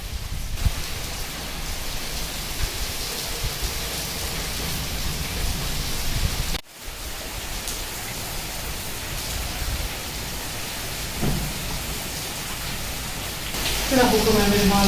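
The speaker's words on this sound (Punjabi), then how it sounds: "ਇਹ ਦੇਖੋ ਕਿੰਨਾ ਮੀਂਹ ਪੈ ਰਿਹਾ" Heavy early-morning monsoon rain falls steadily under dark clouds, a broad continuous wash of sound throughout with a brief dropout midway.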